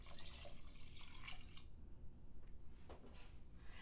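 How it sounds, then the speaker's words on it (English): About four cups of water pour and splash into a pressure cooker in a soft, steady stream with a few drips, faint and close, with no voices. "And now we'll add some water."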